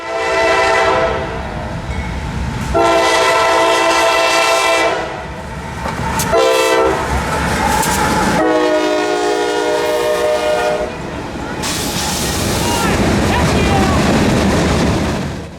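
Southbound freight train 603 passes with repeated loud, blaring horn blasts separated by short gaps, over the rumble and rattle of the moving cars.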